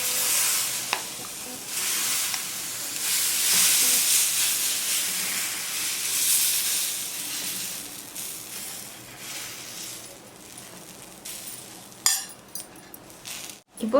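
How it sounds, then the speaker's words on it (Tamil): Dosa batter made from leftover rice poured onto a hot pan, giving a steady loud sizzle and hiss that runs for several seconds, followed near the end by a few clinks and scrapes of a utensil. "இப்போது நம்ம எடுத்து வச்சுருக்க மாவு தோசை ஊற்றிடலாம்."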